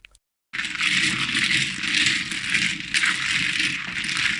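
Mahjong tiles are shuffled across a table in a crisp, rhythmic clatter after a brief silent gap, a dense, loud, continuous rattle of many tiles close by with no talk.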